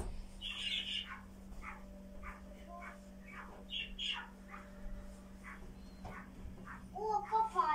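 Hungry pet birds squawk and chirp indoors at dusk before feeding, a run of short repeated calls at moderate distance, with a child's babble and a household hum underneath and a brighter burst of calls at the end.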